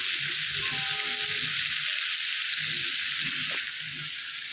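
Raw and ripe tomatoes frying in hot oil for a spicy rohu fish curry with vegetable stalks and potatoes, giving a steady close sizzle with faint stirring clinks and no talk.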